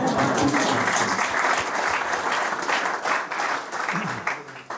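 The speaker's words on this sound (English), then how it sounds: "that's worth an applause, I think" An audience at a panel discussion on sports and financial inequality claps steadily for several seconds, a dense, sustained round of applause that tapers slightly at the end.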